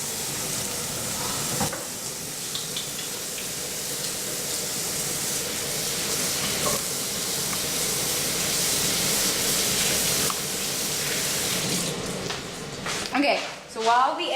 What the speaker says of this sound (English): while the egg is cooking